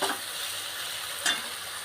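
Pointed gourd curry stirred with a spice mix in a sizzling pan, steady frying hiss with a couple of spatula scrapes, close and clear, no voices.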